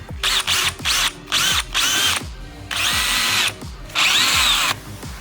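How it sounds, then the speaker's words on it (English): A power drill whirs in short repeated bursts, loud and close, drilling through a car's front lip and bumper, the motor pitch rising and falling as it bites through hard material. "we're drilling straight through the lip and the bumper"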